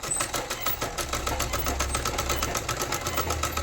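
A sewing machine stitches pleats into a salwar, running in an even, rapid mechanical chatter close by throughout, with no talking.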